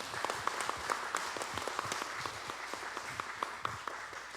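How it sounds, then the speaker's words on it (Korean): A church congregation claps together in a steady crowd applause, dense and sustained at moderate distance with scattered sharper individual claps. "우리 임명빈 목사님 나오셔서 말씀 전해 주실 때 우리 힘찬 박수 한번 쳐드리겠습니다."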